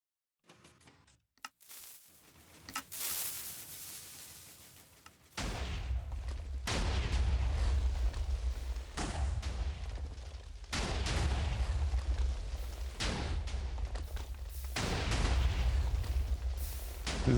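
A TNT cannon in Minecraft fires over and over in heavy, booming explosive bursts, each blast followed by rumbling, after a few sharp clicks and quieter pops at the start.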